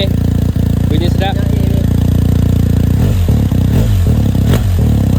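A touring motorcycle engine idling loudly and then revving in several sharp bursts, close to the microphone, with clatter and people talking over it.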